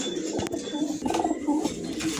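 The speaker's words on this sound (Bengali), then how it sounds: "খুব ভালো একটা জাতের কবুতর এটা মাদি বাচ্চা কবুতর।" A young female pigeon of a good breed, kept among other pigeons, coos softly in low repeated throaty calls, close by against faint background noise.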